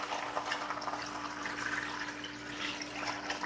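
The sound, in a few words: water poured into a big pot of beans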